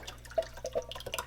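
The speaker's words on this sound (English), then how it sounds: "We're going to take it over to the sink and we're going to rinse it out in the strainer." Water from a kitchen sink tap splashes over canned chickpeas in a strainer, a close run of quick drips, patters and small splashes.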